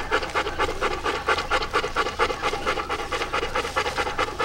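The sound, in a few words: dog panting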